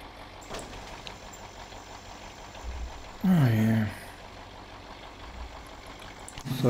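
A truck engine in the off-road driving game Spintires idles with a steady low drone, briefly broken by a louder tonal burst midway through.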